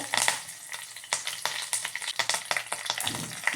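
Dry red chillies go into hot oil after mustard seeds and sizzle steadily, with close crackles and light scraping of the pan throughout.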